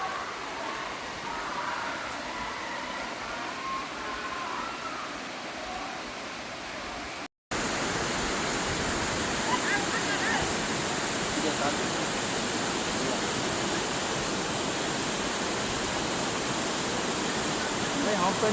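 Roaring waterfall rushing steadily at close range near Kotagiri, a broad continuous wash of falling water that cuts out for a moment and then resumes slightly louder.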